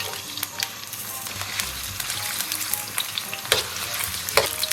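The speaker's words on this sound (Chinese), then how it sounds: "咱们给锅里边稍微来点油，咱们把葱姜蒜给它下里边" Scallion, ginger and garlic sizzle loudly in hot oil in a wok, with a steady frying hiss broken by repeated scraping stirs and light clacks of the spatula, close and without talk.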